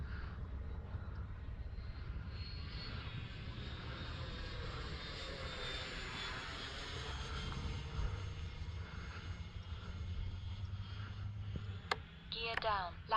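A Freewing L-39 RC jet model in Russian camo flies on its maiden flight, its ducted-fan whine swelling and fading as it passes overhead, with a few sharp clicks near the end.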